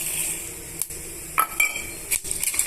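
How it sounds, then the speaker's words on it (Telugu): Hot oil crackles and sizzles steadily as tempering seeds hit the pan, with a few sharp clinks of a utensil against metal. "నూనె బాగా బాగా కాగిన తర్వాత తాలింపు గింజలు వేస్తున్నానండి"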